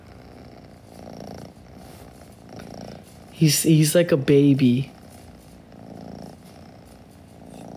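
Low, steady purring from a Sphynx cat runs faintly through the clip, with someone speaking briefly over it in the middle.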